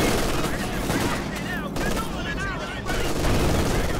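Machine gun fire and other gunshots rattle through a WWII strategy video game battle in a dense, continuous barrage, mixed with whistling shell sounds and game noise.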